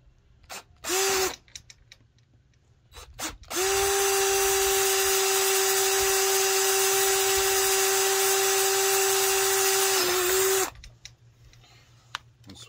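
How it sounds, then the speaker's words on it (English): A power drill whirs in a short burst, then runs steadily for about seven seconds boring into wood for hanging rabbit cages before winding down, close and loud. "allow me to have some pressure on here to drill this hole"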